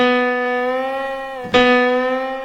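A single sustained instrumental note rings steadily, breaks briefly, then a new note slides in and holds, clear and upfront with no voices.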